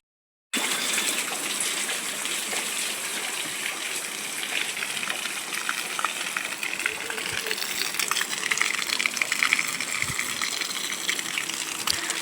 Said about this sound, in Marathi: बघा टाकी भरली आहे, तिथून पाणी गळतं मग.